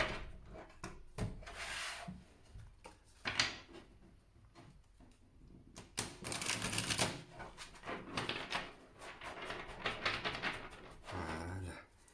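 Tarot cards that stick together being reshuffled by hand. Close, quiet bursts of riffling, sliding and tapping come in irregular clusters, with short pauses between them.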